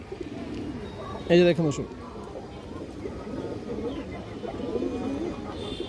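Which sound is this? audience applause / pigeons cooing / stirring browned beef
pigeons cooing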